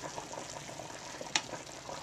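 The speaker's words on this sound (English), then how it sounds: "And the rice is bubbling just perfectly." Rice cooked with a little pineapple juice simmers in a pan, giving soft, quiet bubbling and faint popping with one sharper little crackle partway through, heard on its own.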